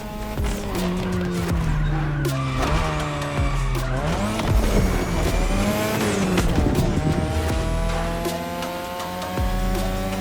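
Race car in The Crew Motorfest video game braking and accelerating through touge mountain turns: engine revs rising and dropping with repeated tire squeals and skids, loud and continuous, with music underneath.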